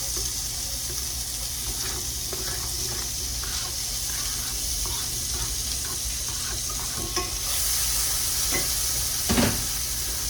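Onion and garlic fry in a pan while green beans almondine are being made, giving a steady close sizzle with light scraping and stirring clatter throughout and no talking.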